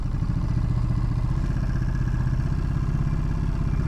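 A small scrambler motorcycle engine idles or runs steadily nearby, a continuous low throbbing drone with a faint mechanical clatter, heard alone.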